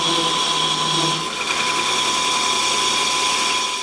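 A wood lathe spins a giant dandelion sphere with its stem turning. A steady, loud motor whine holds throughout, with a slight dip early on and no speech.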